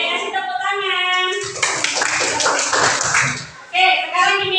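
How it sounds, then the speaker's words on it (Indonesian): Children in a third-grade class break into about two seconds of brisk, dense hand clapping, with a voice before and after the burst. "kasih tepuk tangan"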